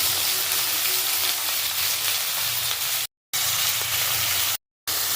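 A spice masala of green chili and grated ginger fries with yam stalks in a pan, giving a dense continuous sizzle that stays close and loud. It cuts out for two brief moments, and nobody speaks.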